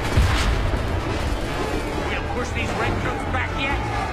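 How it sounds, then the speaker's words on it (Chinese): Cannon fire tears into rows of infantry during a battle in Assassin's Creed III, with a heavy boom near the start followed by a continuous rumbling din of battle. "一炮干掉两排步兵，"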